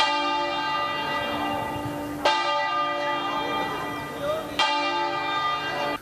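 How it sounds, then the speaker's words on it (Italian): A large church bell in Treviso, Italy tolls in mourning shortly before noon, slowly and loudly, three strokes roughly two seconds apart, each ringing out and lingering into the next. "Tutte le chiese della diocesi hanno suonato le campane a lutto"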